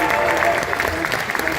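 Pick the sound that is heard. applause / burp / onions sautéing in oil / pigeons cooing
applause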